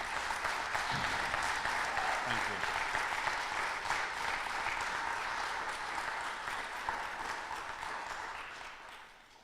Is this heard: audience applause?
yes